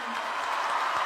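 A concert audience at a festival in Iquique applauds with dense, even clapping, loud and continuous for a brief moment.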